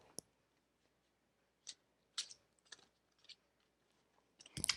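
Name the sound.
shuffling oracle cards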